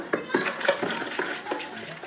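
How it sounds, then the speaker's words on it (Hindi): Banana bread ingredients being stirred together in a bowl, giving soft scraping and tapping strokes that repeat close by for about two seconds with a steady rhythm. "तो अब हम इन इंग्रेडिएंट को भी कर लेंगे मिक्स।"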